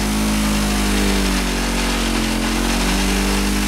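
A polishing wheel spins steadily with red rouge against motorcycle metal parts, holding a loud, continuous motor drone with a constant hum and no pauses.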